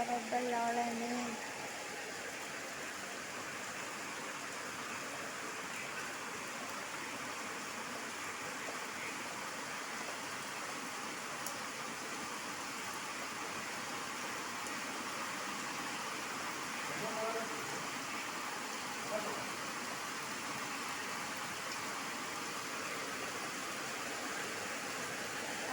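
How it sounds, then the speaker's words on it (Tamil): Heavy rain pours down in Mayiladuthurai district, a steady, dense hiss that holds at an even level for the whole stretch with no breaks or gusts. "அதிக கனமழை பெய்து கொண்டிருக்கிறது மயிலாடுதுறை மாவட்டத்திலே"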